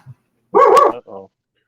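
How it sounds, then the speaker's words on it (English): A dog lets out one loud, close bark followed by a shorter, softer woof, with brief silences before and after. "Are you done with the barking?"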